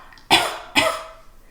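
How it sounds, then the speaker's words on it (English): Two short, sharp coughs from a woman during a pelvic floor exercise, close and clear with a brief pause between them, followed by quiet. "do your little cough"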